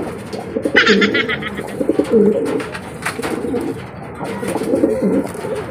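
Pigeons fighting coo repeatedly in bursts, with a flurry of higher chirps and flapping-like rustle, sounding agitated and close, over a steady background hum.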